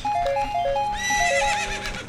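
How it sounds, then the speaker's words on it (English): Horse in The Legend of Zelda: Ocarina of Time, a video game, gives a loud, close, tonal neigh with a rising whinny near the end, over game music and light hoof clip-clop. "Horse, fuck off, what is your problem? Calm down. This horse is the worst."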